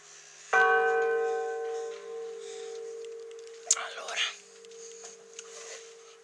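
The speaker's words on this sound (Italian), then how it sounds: "La terza campana." Third church bell in a bell tower at Mirabello, Pavia, struck once with a bright ringing tone that decays slowly, followed by faint voices and handling noise.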